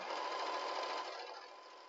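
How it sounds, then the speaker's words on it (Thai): A sewing machine stitches along the ridge of a foam shoulder pad in a continuous close, fast mechanical whir that eases slightly toward the end, with no talk. "เอาตีนผีฝั่งในเนี้ยอยู่ตรงสันฟองน้ําเย็บย้ํา"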